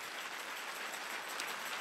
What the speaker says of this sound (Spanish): Si usted le va a dar a Dios ese aplauso, déselo bien.